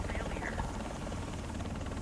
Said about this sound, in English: What's going on with this helicopter